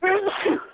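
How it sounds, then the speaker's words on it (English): A single sharp human sneeze, loud and close to a phone microphone, lasting under a second with a breathy tail. "hold on, I got to sneeze"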